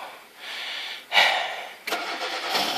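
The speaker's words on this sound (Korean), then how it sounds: "깔끔하게 시동 잘 걸립니다" A Hyundai Avante is started in cold weather: a short cranking whir gives way to the engine catching, then a steady idle that picks up slightly, close by and with no talking.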